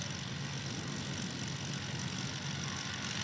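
A STOL plane at the Music City STOL Competition takes off, its propeller engine a steady, fairly distant drone with a broad hiss and no speech.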